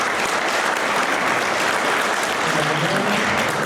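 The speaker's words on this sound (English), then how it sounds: "Round of applause, first of all, for everyone here at Hampton Hall, the team, the staff, the food" A round of applause from a crowd gathered at an event at Hampton Hall in Bluffton, South Carolina: dense, loud, sustained clapping from many people, unbroken and with no voices over it.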